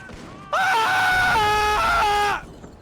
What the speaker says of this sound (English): scream if you're being held hostage